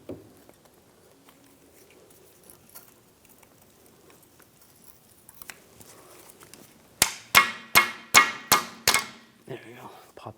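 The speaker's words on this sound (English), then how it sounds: "Pop that clip off and take the line out of the bracket." Brake line clip being worked off a 1998-2010 Volkswagen Beetle: quiet fiddling, then a rapid series of five or six sharp metallic taps close by.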